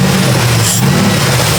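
A Jeep's 4.7 H.O. engine revving hard and loud up close, a steady rough roar throughout.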